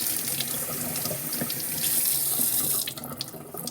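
Tap water runs steadily into a kitchen sink as parsley is rinsed under it, a continuous splashing hiss that is close and fairly loud, with no talking.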